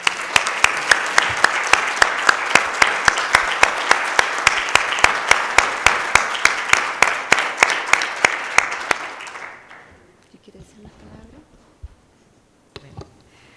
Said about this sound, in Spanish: Así que yo para ella pido un gran aplauso.